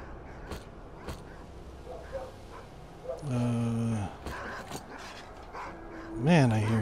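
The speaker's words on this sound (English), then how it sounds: "I still hear dogs." Dogs bark and whine at a distance in S.T.A.L.K.E.R. Call of Pripyat, a few scattered calls over low game ambience, with louder drawn-out howls near the end.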